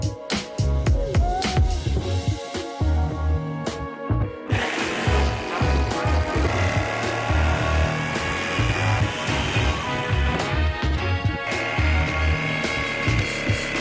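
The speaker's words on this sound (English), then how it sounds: "use the jigsaw to cut this side" A jigsaw cutting a car splitter piece buzzes with a rapid rattling rhythm, pausing briefly partway through before resuming at a steady, loud pace close by.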